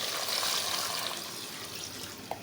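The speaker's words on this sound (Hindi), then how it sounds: "अब आपने इसमें पानी उतना डालना है जितना आपने शोरबा बनाना है" Water pours steadily into a pot of beef and potato curry, a continuous close trickle and splash lasting a couple of seconds and ending with a small plop.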